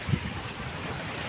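Sea waves wash against the shore near a fishing area in Navotas at dusk, a steady, moderately loud rush of surf blended with wind noise and no voices.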